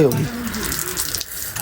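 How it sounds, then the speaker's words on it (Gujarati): Hot water gushes steadily from a tap, a continuous splashing stream with a brief voice near the start. "આ તો ગરમ પાણી આવે સારું"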